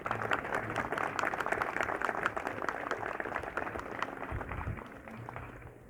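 An audience at a commemoration of the Battle of Tarapacá gives steady, dense applause that is moderately loud and fairly distant, fading slightly toward the end.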